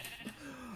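A single sheep bleats in a video game, a short, faint wavering cry heard alone.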